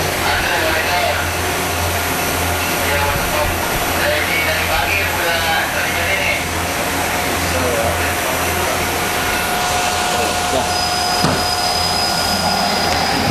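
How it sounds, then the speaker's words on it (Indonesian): Steady, loud whooshing of a coffee roaster's suction fan while roasting Kintamani arabica, a continuous airy roar with a low hum that holds unchanged from start to finish. "ada bunyi kipas angin nih"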